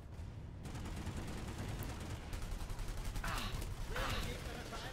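Gunfire in the video game PlanetSide 2, a steady stream of rapid shots under faint game noise, with a couple of louder bursts near the end.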